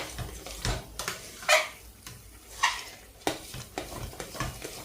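Thick wheat flour muscat mixture is stirred in oil in a pan, giving repeated heavy scraping strokes at an irregular pace over a low sizzle, close and fairly loud.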